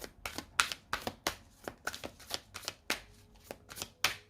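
Tarot cards riffled and cut by hand, a run of sharp, rapid snapping bursts repeating about every third of a second, close and crisp with no voices.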